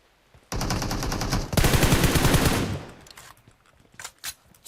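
Video game gunfire comes in loud, close bursts of rapid automatic shots lasting a couple of seconds, followed by a few scattered fainter shots.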